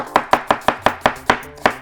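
A chef's knife slices through an onion on a cutting board in a steady run of eight crisp, close chops, each sharp knock of the blade against the board spaced evenly apart, with no talking.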